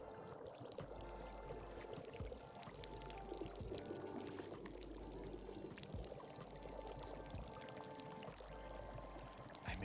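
Steady stream of water pouring in the cozy video game Wanderstop, a continuous splashing trickle that runs for the whole stretch at an even level, with soft background game music underneath.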